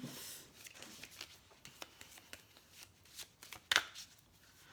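Oracle cards being shuffled by hand, a quiet series of soft riffling and slapping flicks close by, ending with a sharper snap as a card falls, with no voices.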